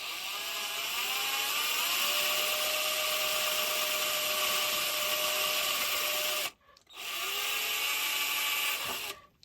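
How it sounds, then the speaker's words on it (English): A power drill spinning a cleaning brush while restoring an American Beauty soldering iron whines steadily at high speed, a continuous motorized hum with harmonic tones, briefly cutting out near the end before spinning up again. "You mount it into your drill, it's only a matter of putting into the hole."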